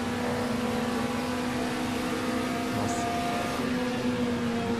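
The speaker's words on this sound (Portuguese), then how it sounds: "Ó, mais de 7 mil giros, cara, no final da reta" A race car engine in the Automobilista racing game holds a high, steady, droning rev at the end of a straight, loud and continuous with no talking.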